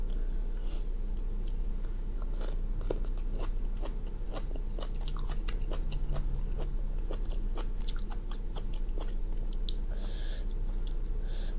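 Boiled bamboo shoots dipped in fish sauce with culantro are bitten and chewed up close, giving a long run of crisp, wet crunches and clicks at an uneven pace with no talking.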